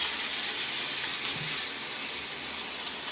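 Marinated fish pieces frying in hot oil for Bhimavaram-style fish fry, a steady, loud, watery hiss of sizzling oil running continuously without voices.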